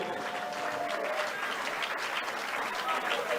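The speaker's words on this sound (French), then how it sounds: "Est-ce qu'on peut applaudir très fortement?" An audience applauds at an awards gala evening at a hotel, with sustained close clapping that stays loud throughout and voices and cheers mixed in.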